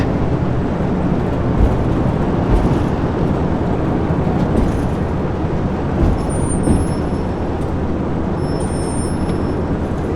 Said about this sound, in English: now get on the brakes. Keep it straight.